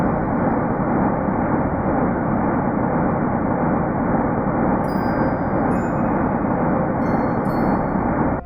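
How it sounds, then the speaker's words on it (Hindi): A sonification of the early universe, about 380,000 years after its start, plays as a steady, dense roar like broadband rumbling noise, with faint high glittery tones flickering in toward the end. "यह है ब्रह्मांड की आवाज।"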